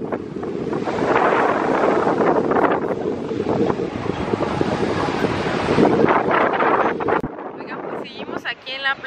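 Wind buffets the microphone at a beach near Rome while surf rolls in steadily, a loud and continuous roar that cuts out abruptly near the end. Someone talks briefly as it fades.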